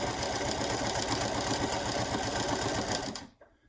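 A sewing machine stitches fabric for a simplified Olson mask, a loud close rapid mechanical chatter running continuously before stopping abruptly near the end.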